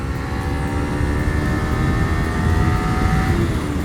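A small Kawasaki Ninja supersport motorcycle engine drones steadily under load, its pitch rising gradually through the gear; loud and continuous, mixed with rushing wind noise and no talking.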